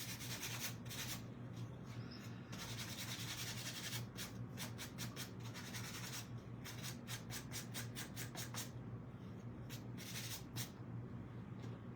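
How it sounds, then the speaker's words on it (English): Sanding a workpiece by hand, a steady faint rasping rub that keeps going, broken by quick repeated scratchy strokes, with no talking. "I'm going to sand this down just a little bit"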